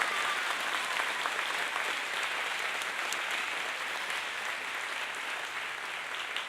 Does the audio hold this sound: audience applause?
yes